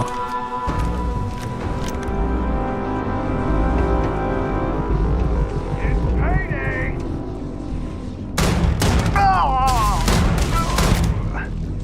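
Rapid gunfire bursts and explosive booms in the video game Starfield, dense and continuous with a brief lull, and game sound effects and voices mixed in.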